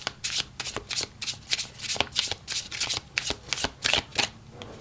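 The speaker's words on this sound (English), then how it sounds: "Do one more shuffle." Crisp, rapid riffling of tarot cards being shuffled, in quick bursts of flicking slaps with a steady rhythm, close and fairly loud.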